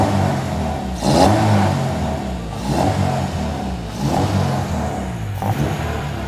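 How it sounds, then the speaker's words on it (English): A Honda DC2 fitted with Spoon parts at an underground car meet in Malaysia revs close by, its four-cylinder engine rising in several sharp blips over a steady running note. "if it's okay with the owner, we can maybe turn the engine on."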